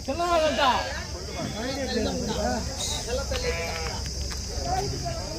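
Sheep bleat repeatedly, several animals calling over one another at a busy Gudur sheep market, with voices and crowd noise mixed underneath.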